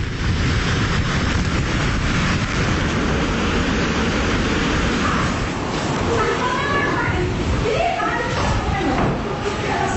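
Strong wind from Super Typhoon Lawin in Cagayan roars continuously as a loud, broad rushing noise, while people talk over it throughout.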